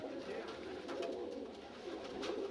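Racing pigeons coo softly in a loft, low repeated throaty calls that stay faint and steady.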